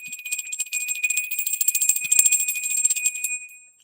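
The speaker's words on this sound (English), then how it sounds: "Cleanse the space with a 3 times bell" A bell rung three times to cleanse the space during a live tarot reading, its bright, sustained ringing tones overlapping and fading out at the end, with no talking.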